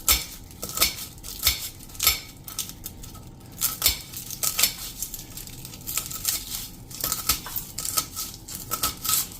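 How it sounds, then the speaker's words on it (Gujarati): A sharp knife chops through garlic cloves on a cutting board, giving quick irregular taps and clicks, close and fairly crisp, with no talk. "આવી રીતે તમારે ચપ્પેથી કાપી જ નાખવાનું છે."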